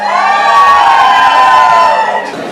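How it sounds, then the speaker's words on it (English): Audience at a national-level undergraduate management fest at an engineering college cheers and whoops loudly, a dense crowd roar with shouting voices that holds steady for over two seconds before easing off. "Can I please have a cheer, y'all?"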